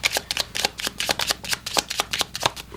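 Tarot cards shuffled upside down in a quick, close, crisp riffling patter of repeated papery flicks, steady and soft with no talking.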